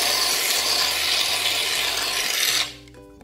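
Shaving foam is sprayed from a can for making slime, a loud close hissing rush that runs steadily for over two seconds and then cuts off abruptly.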